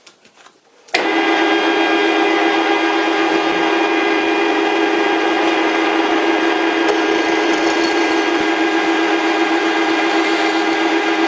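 A Dremel-style mini grinder switches on after a brief moment and spins at high RPM with a steady, piercing whine and a faint grinding rasp, held continuous and close for about ten seconds.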